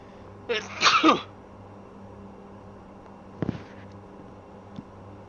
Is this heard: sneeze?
yes